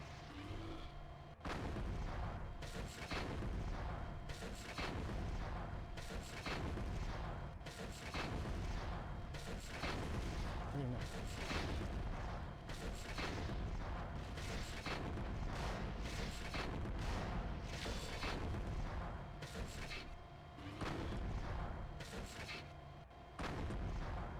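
In the mech combat game MechWarrior 4: Mercenaries, weapons fire and explosions pound in a dense, rapid series of loud booming blasts over a steady low rumble that lasts more than twenty seconds, with no voices.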